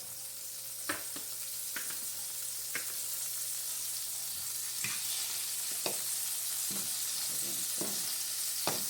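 French toast fries in butter in a pan over medium heat, a steady hiss of sizzling with a few sharp crackles and light spatula scrapes spread across it, no voices.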